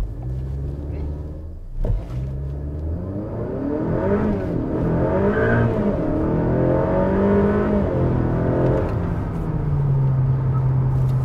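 A Honda Civic FK8 with a hybrid turbo and E30 ethanol tune accelerates at full throttle, its engine drone climbing in pitch as it pulls steadily and loudly for several seconds.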